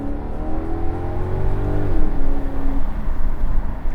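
A Maserati GranTurismo Convertible's V8 engine drones loudly nearby, its pitch sliding down as it eases off, settling into a low rumbling exhaust burble.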